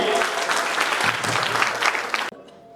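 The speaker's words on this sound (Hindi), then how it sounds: "जोरदार तालियां होनी चाहिए।" A crowd claps loudly and steadily at a health-product gathering, a dense sustained burst of applause that cuts off abruptly near the end, leaving faint room sound.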